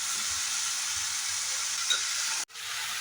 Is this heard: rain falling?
no